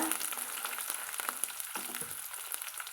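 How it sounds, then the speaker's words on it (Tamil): Green chillies and small shallots fry in a pan for a bottle gourd dish, giving a soft, continuous sizzle with light crackles and occasional stirring taps, fairly quiet and close. "வெட்டி வச்சுக்கிற ரெண்டு பச்சை மிளகாய் வந்து சேர்த்துக்கலாங்க அது கூடவே சின்ன வெங்காயம் சேர்த்துக்கலாங்க"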